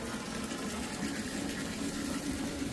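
Water pours steadily into a container, a continuous gushing rush with no pauses, fairly close.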